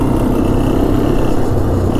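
A Honda Foreman 400 ATV engine runs steadily up close, a loud, even low rumble with no pauses or talking.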